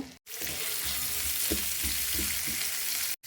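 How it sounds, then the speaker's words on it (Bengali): Onions frying in a pan for a fish curry, giving a steady close sizzle and hiss throughout, with a few soft low stirring knocks in the middle and two brief dropouts near the start and end. "প্রথমে আমি পেঁয়াজটা ভেজে নিচ্ছি"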